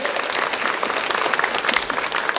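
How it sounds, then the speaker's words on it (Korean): A Korean church congregation gives enthusiastic applause during a Sunday worship service, a loud, dense, continuous roar of many hands clapping without pause and with no voices over it. "하나님께 영광의 박수 한번 뜨겁게 돌립니다."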